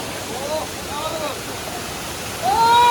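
A waterfall where people bathe, on a trip in Purulia, gives a steady broadband rush that swells louder near the end, with voices talking over it.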